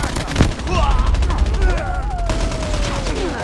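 Dense gunfire crackles through a Call of Duty Mobile match, with a sharp shot near the start and rapid fire under sweeping game effects and a voice.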